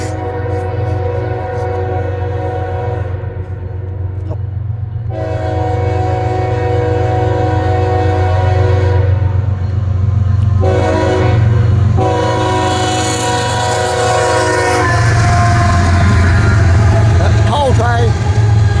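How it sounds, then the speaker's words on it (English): A coal train rumbles past in Ashland, Kentucky, its horn sounding in long blasts over a continuous low, heavy roll of wagons, loud and close, with voices talking nearby. "Coal train"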